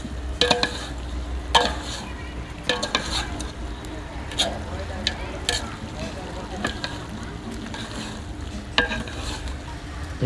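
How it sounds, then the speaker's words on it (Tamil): Coriander powder stirred into country chicken masala frying in a pan, with a steady sizzle under repeated sharp scrapes and knocks of the spoon against the vessel. "இப்போ மல்லித்தூள் அது கிட்டத்தட்ட ஒரு 50 கிராம் அதையும் போட்டு ஒரு பரட்டுறாரு."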